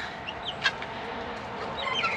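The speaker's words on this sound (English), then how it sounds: "Look at Chick in there" A baby chick on a farm makes a few soft, high cheeping clucks, scattered and close, over low background noise.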